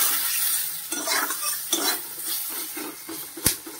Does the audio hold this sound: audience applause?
no